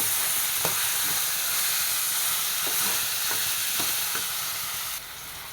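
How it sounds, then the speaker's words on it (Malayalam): Onion, tomato and green chillies sizzle steadily in a hot pan while a spoon stirs and scrapes at intervals, no voices present. "ഇതെല്ലാം കൂടി ഒന്ന് നന്നായിട്ട് വഴറ്റിയെടുക്കാം"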